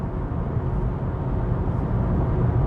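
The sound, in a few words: Volvo EX30 car driving loudly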